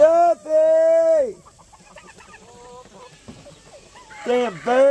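Chickens on a homestead cluck and squawk loudly close by, with harsh rising calls in bursts, separated by a quieter stretch of softer clucks and background noise.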